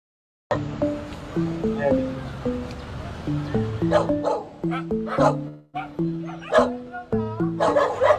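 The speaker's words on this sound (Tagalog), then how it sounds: "Mahilig sa aso si Tatay Ben." Several dogs bark and yip repeatedly, close by, with overlapping higher whines and yelps.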